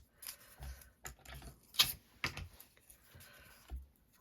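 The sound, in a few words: cutting Amazon cardboard packaging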